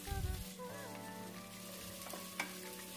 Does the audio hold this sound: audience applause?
no